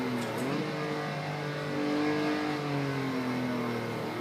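A Porsche 911 race car at the Nürburgring, its engine loud and close from inside, with the pitch dropping as it brakes and a quick blip of a downshift early on, then a steady drone.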